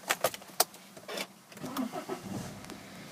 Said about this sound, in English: just getting the vehicle started up for you guys